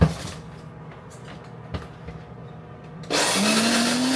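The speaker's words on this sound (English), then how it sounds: "Fixed coffee grinder! Yes! Keep on grinding." A repaired electric coffee grinder starts grinding coffee beans, a loud steady motor whir that kicks in abruptly after a quiet stretch with a few small knocks.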